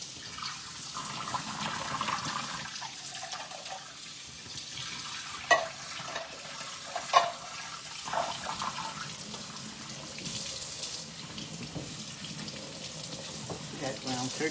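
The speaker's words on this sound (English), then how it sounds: "you gotta wash your black beans" Tap water runs steadily into a sink as canned black beans are rinsed, with clinks of the can and colander and people talking over it.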